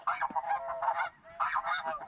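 A flock of snow geese honks continuously in dense overlapping calls during a conservation-season hunt, fairly distant and steady, with no talking.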